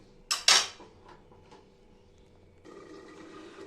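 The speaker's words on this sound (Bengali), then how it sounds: "তো আমি এখানে একটু ঢাকা দিয়ে রাখবো এবারে" A lid is set onto a cooking pan of duck egg curry with two quick metallic clanks close by, followed by a faint, steady simmering hiss.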